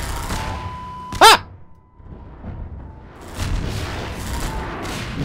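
Missiles exploding in the video game Half-Life 2, one sharp loud blast early on followed by rumbling, crackling battle noise and distant booms.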